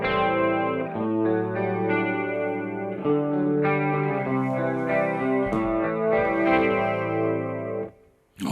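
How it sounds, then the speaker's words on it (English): Guitar through a Kemper Profiler chorus effect with the mix set midway, playing shimmering, detuned sustained chords that swell and shift steadily before a brief drop at the end, with no voices. "I will do some chorus sounds with that"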